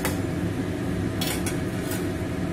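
A spoon stirs salt into fish heads and rice in a pot, giving soft scraping and a few sharp metallic clinks against the pot over a low background hum.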